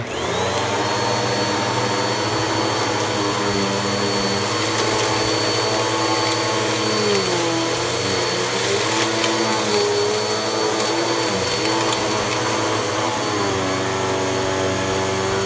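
A Bissell 9595A upright carpet cleaner runs over carpet with a loud, continuous motor whine and roaring suction that holds steady throughout, with slight shifts in pitch as it moves.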